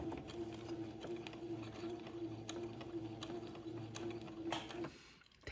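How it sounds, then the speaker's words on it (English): Sewing machine stitching entredeux lace onto batiste fabric, a steady close mechanical hum with a rapid regular needle rhythm running continuously for about five seconds before stopping abruptly. "zoom in over here to the sewing machine and just stitch this entredeux to the batiste"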